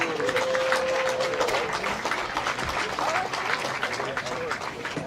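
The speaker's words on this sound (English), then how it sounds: "Let's give them both a round of applause." Steady applause from a crowd at a softball game between Mexico and Japan, sustained throughout with a faint tonal whistle early on, loud and continuous.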